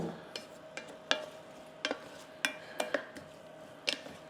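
Onions with cracked black pepper are stirred in a pan, a utensil scraping and clinking against the metal in a run of sharp, irregular taps over a faint, steady sizzle.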